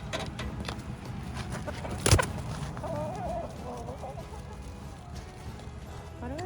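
Chickens, including a Rhode Island Red, cluck steadily in a coop on a winter morning, with a brief louder knock partway through and soft background noise throughout.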